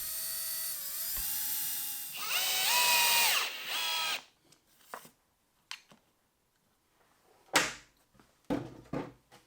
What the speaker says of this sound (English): I also pre-drill the holes because this white oak is so dense